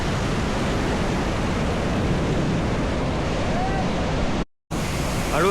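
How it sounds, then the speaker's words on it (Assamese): River water rushes steadily toward Krangsuri waterfall in Meghalaya, a loud, dense, unbroken roar of flowing water heard close by, with a brief dropout near the end. "এইফালৰ পৰা এইটো নদীয়েদি পানীবিলাক বৈ আহি আছে আৰু ইয়াৰ পৰা তলত এনেকৈ বৈ গৈ ক্ৰাংচুৰি ৱাটাৰফলৰ উৎপত্তি হৈছে"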